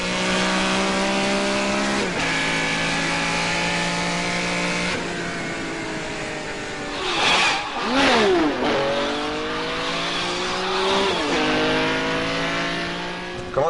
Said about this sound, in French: J'ai refait le parcours avec une Ferrari pour changer le son.